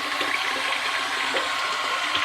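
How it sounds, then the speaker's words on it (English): Water runs steadily from a tap into a bathroom sink, a constant close-up rushing splash without pauses or talk. "A little bit of water in the sink here."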